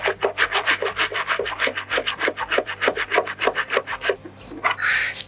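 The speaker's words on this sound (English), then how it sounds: "basically has the fluid running through it, and you just basically start scrubbing" A bicycle chain ring is scrubbed with a brush and cleaning fluid, producing close, steady back-and-forth rubbing strokes at a quick even rhythm, with a brief wetter hiss at the end.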